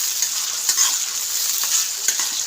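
Chopped tomatoes and onion sautéing in a pan, a continuous bright sizzle with intermittent stirring scrapes, close and steady, without any voices.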